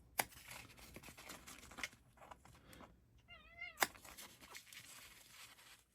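A faint house cat gives a single short, rising meow partway through, set against quiet indoor room noise and soft handling sounds, with no speech.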